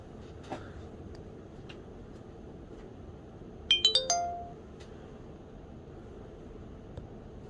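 An LG C2000 mobile phone plays its short startup tune, a quick run of bright electronic chime notes ending on a held tone, clear over a faint, quiet background hiss.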